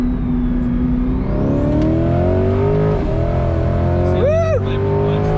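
A turbocharged car engine revs loudly and close as the clutch slips, its pitch climbing and wavering with a brief higher chirp near the end, while voices talk underneath.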